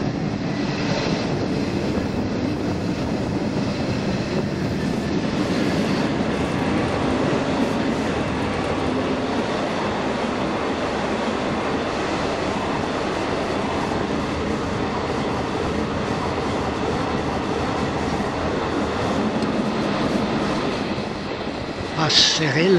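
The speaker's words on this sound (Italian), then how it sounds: "Mi piace viaggiare e en plein air su queste elettromotrici ALE582" An ALE582 electric railcar, in service since 1987, rumbles along the tracks in a continuous, loud hum and clatter that stays steady for over twenty seconds, close by.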